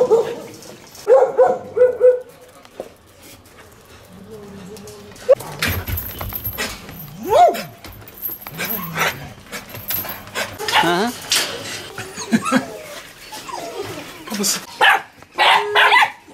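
Several dogs bark, yip and pant close by in a garden, with whimpers and excited bursts mixed among people talking over them.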